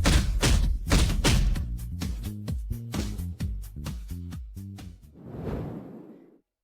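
A rapid series of heavy thuds and swishing blows lands in an irregular flurry during a violent beating, loud and close, before giving way to a brief muffled rush at the end.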